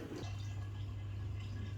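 Water rushing and draining inside an Electrolux ESF5206LIW dishwasher, a steady low hum with faint gurgling and trickling throughout, continuous and moderately quiet.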